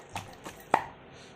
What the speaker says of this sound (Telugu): ఉల్లిపాయ దంచాక ఎల్లుల్లి, జీలకర్ర వేసి మళ్ళీ అవి కూడా దంచాలి